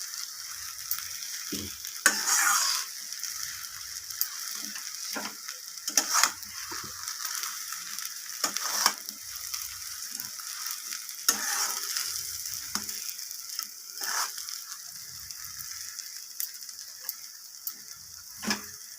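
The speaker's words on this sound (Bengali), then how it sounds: "তেলের মধ্যে এইভাবে আলুটাকে নাড়িয়ে চাড়িয়ে একটু আলুটাকে ভাজা ভাজা করে নিতে হবে।" Potatoes stirred and fried in oil in a wok make a soft sizzle broken by repeated scraping and clattering strokes of a spatula against the metal pan.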